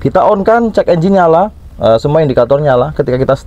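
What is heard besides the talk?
No everyday noises stand out.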